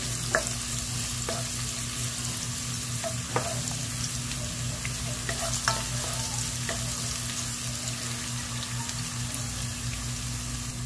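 Carrots sizzle steadily in a frying pan while being half-cooked for pancit canton, with occasional sharp clicks and scrapes of stirring over a constant low hum.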